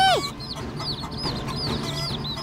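A mother hen and her chicks cluck and peep softly over a low background murmur, with repeated small chirps scattered through the clip.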